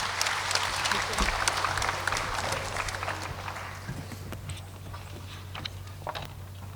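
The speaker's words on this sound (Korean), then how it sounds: "큰 박수로 용기 주시고 체험담을 경청해 주시기 바랍니다." Audience applause at a Catholic charismatic renewal conference in North America, a broad steady wash of clapping from a large crowd in a hall, sustained and even before fading slightly, with no talking over it.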